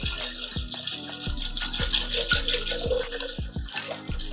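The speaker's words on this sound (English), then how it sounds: "next we're going to do pineapple juice" Pineapple juice is poured into a drink in a home kitchen, giving a steady liquid gush with splashy glugging and a few regular low knocks, fairly close and continuous, with no talking.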